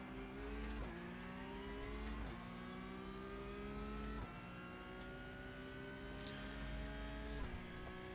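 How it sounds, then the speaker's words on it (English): Two Porsche race cars in a racing video game, their engines loud and close, revving through rising and falling pitch sweeps with repeated gear changes and brief dips as they brake hard and power back around. "Big, heavy braking out of both Porsches and coming back around."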